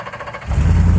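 A wind machine's engine turns over and catches, rising into a loud low rumbling idle close by.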